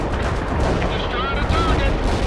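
Tank main guns fire in World in Conflict, a dense wash of booms and gunfire blended with battle noise and faint radio-style voices.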